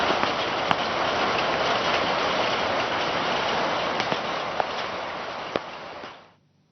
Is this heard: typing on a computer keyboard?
no